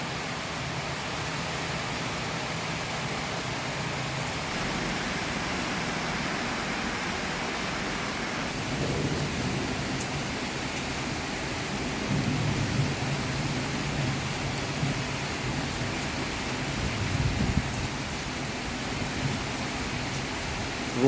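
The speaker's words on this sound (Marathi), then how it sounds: "बघा पाऊस अत्यंत जोरात पडत आहे" A steady, dense hiss of heavy rain pours down continuously during a storm with lightning in Solapur, with faint low rumbles rising and falling beneath it.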